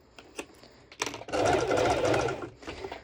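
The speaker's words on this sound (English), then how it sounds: "with the normal sew machine, it can move a little bit" A domestic sewing machine stitches a binding strap, starting with a few short bursts and then running in one steady, loud, close whirring stretch before easing into lighter intermittent stitching.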